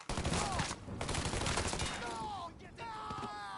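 Rapid gunfire from a Mafia 3 video game shootout, loud and dense with sustained bursts through most of the stretch, briefly dropping near the end, while a voice shouts over the shots.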